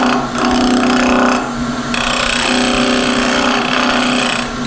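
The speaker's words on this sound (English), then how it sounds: "I'm going to attack that with a spindle gouge, just lightly take that off" A spindle gouge cuts a spigot off a spinning wooden sphere on a lathe, giving a steady whirring, scraping hum with a pitched motor tone throughout and a brief change in the cut partway through.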